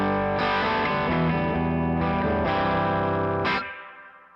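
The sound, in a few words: electric guitar through spring reverb pedal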